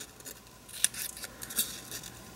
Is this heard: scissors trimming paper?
yes